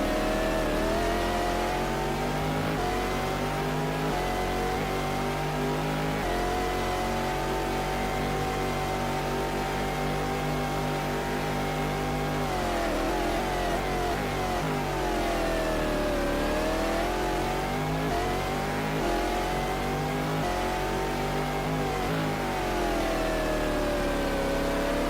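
Race car engine at full throttle in a racing video game set at the Nürburgring 1000 km, a loud sustained roar climbing through rising and falling gear sweeps with no pauses.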